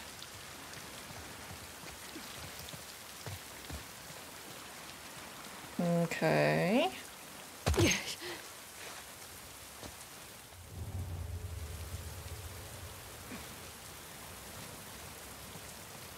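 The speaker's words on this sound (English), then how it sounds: "I do like the sound of the rain though." Steady rain in the video game The Last of Us Part II hisses throughout, with a brief spoken word and a couple of sharp sounds partway, then a low rumble swelling near the end.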